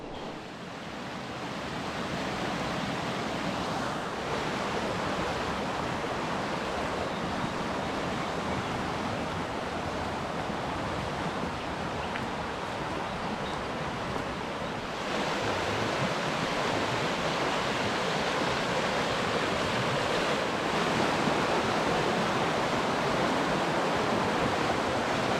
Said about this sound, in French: je vous laisserai écouter le bruit de l'eau sans parler et sans musique